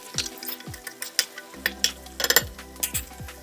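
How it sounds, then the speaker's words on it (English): Beans tipped into a hot pan for masala millet upma, frying with a light sizzle as a spoon scrapes and stirs in several clattering strokes, close and fairly loud. "I'm adding in the beans first since they take the longest to"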